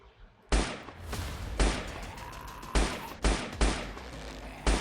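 Nerf gun blasts in a top-down zombie shooter video game: about seven punchy, sharp shots fire in an uneven rhythm, each standing out loudly over a faint game background.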